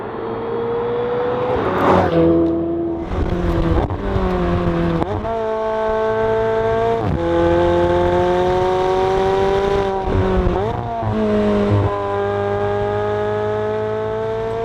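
A McLaren 720S with its 4-liter twin-turbocharged dry-sump V8 revs repeatedly, rising and falling through several sharp blips and sustained climbs, loud and close with no talk.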